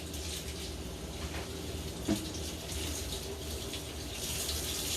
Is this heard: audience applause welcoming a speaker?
no